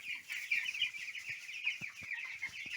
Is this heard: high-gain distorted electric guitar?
no